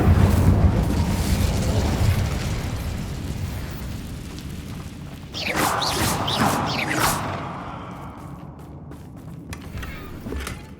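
An Incendio fire spell is cast in Hogwarts Legacy, a rumbling whoosh of flame building into a crackling burst and fading, with no talk over it.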